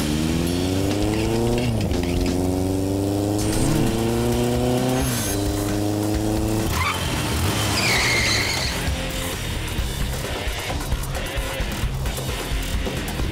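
A motorbike on a college campus revs hard with rising engine pitch, then its tyres skid loudly, followed by a rougher scraping rumble as it slides to a halt, close and prominent.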